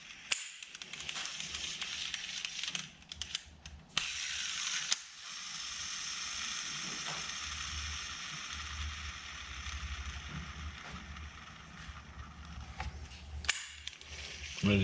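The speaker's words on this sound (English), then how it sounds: "Obviously you can hear the new bearings in there." A Daiwa Ryoga 1520CC baitcasting reel, newly fitted with Boca ceramic bearings, turns with a steady, quiet mechanical whir and a few sharp clicks at the start and end.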